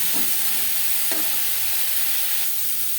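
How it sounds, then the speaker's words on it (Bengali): Mango pieces with salt and turmeric fry lightly in a pan for Bengali amer tok, giving a steady bright sizzle with a couple of soft stirring scrapes, close and unaccompanied by talk. "আমের সাথে লবণ হলুদ বেশ ভালো করে মিক্স করে দেবো আম হালকা করে ভেজে নেব"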